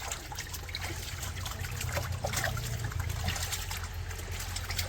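Freshly cut fish rinsed in water, a faint close trickle and splash with small sloshes, steady over a low background hum.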